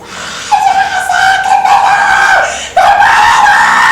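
A woman imitates the screams of a woman in labour, producing loud, sustained high-pitched wails that break briefly and then resume, close and alone.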